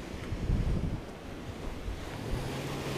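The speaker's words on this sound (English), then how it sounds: "Keep an eye out for these waves." Ocean waves washing against a jetty on the Oregon coast, a loud continuous roar of surf with heavy wind buffeting the microphone, and no voices.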